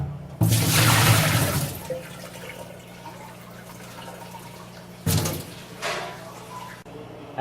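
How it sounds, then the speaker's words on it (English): Water is splashed out of a Hobart commercial dishwasher with a container: a loud rush of splashing, then quieter dripping and trickling, and a second, shorter splash near the end. "fill a container with water and just splash out the Hobart that way"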